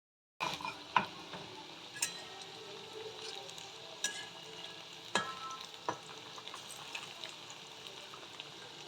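Potato pakoras sizzle steadily in hot oil at close range, broken every second or so by sharp clinks and scrapes of a spoon turning them in the pan.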